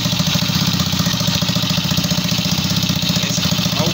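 A Neo 115cc motorcycle engine fitted with a Yamaha YBR 125 carburetor runs at a steady idle close by, with an even, rapid putter and light mechanical clatter throughout.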